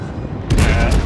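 Ship guns going off in World of Warships during a clan battle, a sudden loud burst of naval gunfire opening midway with heavy booming rumble that sustains to the end, over a steady game background.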